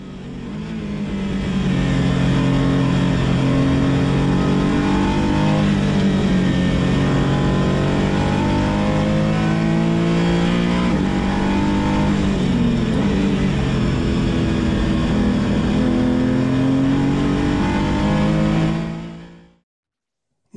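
A race car accelerates through the corners at Spa-Francorchamps, its engine droning loud and sustained with the pitch rising and falling between gear and throttle changes, before the sound cuts off abruptly at the end.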